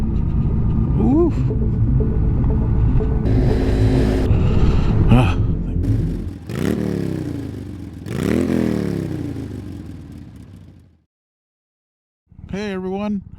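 A Kawasaki 900 Classic motorcycle rides downhill, its engine rumbling loud and close with rising and falling revs and gear changes under wind noise, briefly dropping out before the engine note returns.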